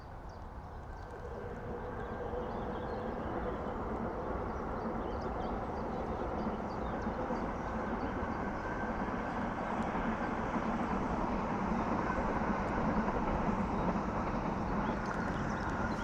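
A southbound London Underground Northern Line train runs along an open stretch near Colindale, a steady rumbling roar that builds slightly and holds for the whole span, heard from a distance under a constant broadband wash.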